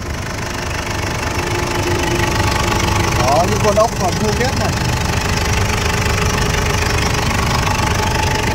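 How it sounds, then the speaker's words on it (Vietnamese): Diesel engine of a 2009 Ford Everest idling steadily up close, a continuous low rumble with a faint knocking texture, while someone talks over it. "máy nổ rất giòn và êm"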